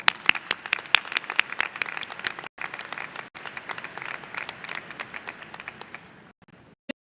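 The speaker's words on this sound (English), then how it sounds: "let's give your family, friends, and staff a round of applause" Graduation ceremony audience at Libertyville High School applauding, many crisp distinct claps from a sizable crowd, sustained and then tapering to a few scattered claps near the end.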